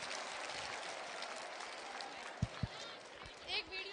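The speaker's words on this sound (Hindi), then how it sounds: "ताली बजाओ जिसने 27 बोला उसके लिए।" An audience at a Yuva Samvad youth event in Gwalior applauds in a steady, diffuse wash of clapping, with a few sharper thumps and a voice on top.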